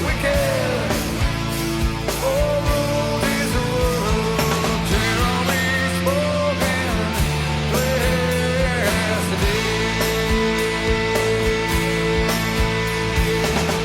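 A song plays as a dense full-band rock recording with steady bass, guitars and a wavering sung melody, loud and continuous throughout, with no talk over it.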